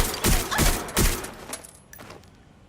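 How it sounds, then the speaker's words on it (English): Gunfire in the video game Watch Dogs Legion, three quick loud bursts of shots in close succession, then a fading tail. "Suspect is shooting!"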